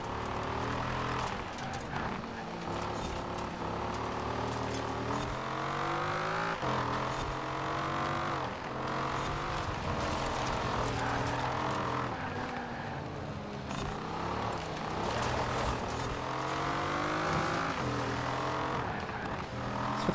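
Cars drift around a track in the video game Fortune Island, with several engines revving and droning continuously at high pitch, rising and falling over steady, loud game audio.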